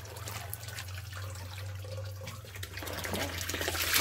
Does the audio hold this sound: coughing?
no